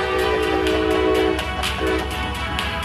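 A train in the Guardian Tales mobile game arrives sounding a loud, sustained horn that breaks off and briefly resumes, over steady rumbling wheels and clatter.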